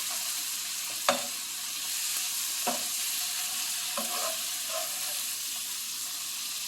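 Tomatoes frying in a pan on low heat for bitter gourd gravy: a constant bright sizzle with a few soft knocks and stirring scrapes, close up, with no voices.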